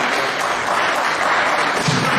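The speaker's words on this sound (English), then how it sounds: "Let's give Malik a round of applause" Audience applause at a live debate event, a steady broadband wash of clapping that fills the whole stretch at a fairly loud level, with no talk over it.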